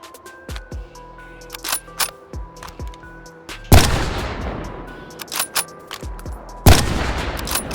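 A suppressed .338 Lapua bolt-action sniper rifle fires twice in a VR shooting game, each shot a sharp loud crack with a long decaying tail, amid frequent clicky mechanical handling and bolt-cycling noises.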